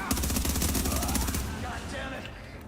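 Rapid shotgun blasts in The Division video game, a dense run of loud repeated shots in the first half that thins into scattered, fainter gunfire and echo.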